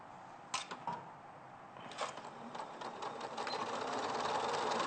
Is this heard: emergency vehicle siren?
no